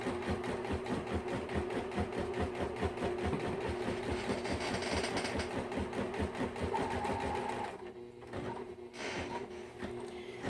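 A Singer Quantum XL 100 sewing machine stitches steadily up close, its needle hammering in a fast, even rhythm that drops out briefly near the end before resuming.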